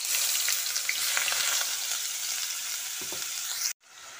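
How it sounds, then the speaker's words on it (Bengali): Chopped onion sizzles loudly in hot oil with tempering spices while a spoon stirs it, a continuous bright frying hiss with occasional scraping, cut off briefly near the end. "পেঁয়াজটা দিয়ে কিছুক্ষণ তেলে নেড়ে চেড়ে নিচ্ছি।"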